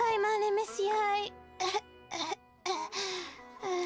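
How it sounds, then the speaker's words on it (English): A character in Genshin Impact gives a fake cough, a few short forced coughs and throat-clearing sounds broken by gaps, close and clear after a brief strained vocal sound. "if I've ever heard a fake cough, then here it is."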